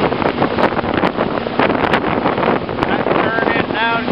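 An airboat engine roars steadily while crossing rough water near markers and a sandbar. Loud wind buffeting and spray hiss mix with it throughout, and a few sharp knocks and thumps break through.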